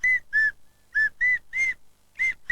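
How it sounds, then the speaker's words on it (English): A little wooden whistle gives short, bright toots close by in an uneven series of seven or so blasts, each lasting a fraction of a second with brief gaps. "And Titch had a little wooden whistle."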